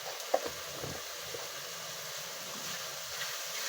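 Spaghetti sauce with hotdog being stirred in a pan gives a soft steady sizzle with a few light scraping clicks near the start, quiet and close, no voices.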